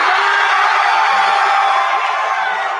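A loud crowd cheers at a cheese ball eating contest, with whoops, yells and shouting merging into one sustained roar that holds at full volume through the moment.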